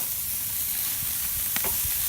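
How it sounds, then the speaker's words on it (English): Broccoli gets stirred in a Lodge grilling pan, with a soft constant sizzle and a few brief scraping stir strokes, close and short. "All right, time to stir."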